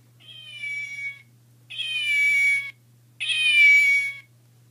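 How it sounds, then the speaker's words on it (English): Voice box in the paw of a stuffed toy bear gives three electronic meows, each about a second long and evenly spaced, clear and close against a quiet background hum. "This one meows."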